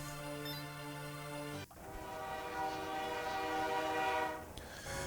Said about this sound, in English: So here we are on a train